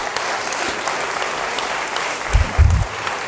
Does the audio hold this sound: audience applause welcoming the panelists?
yes